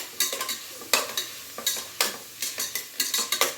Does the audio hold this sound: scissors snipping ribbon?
no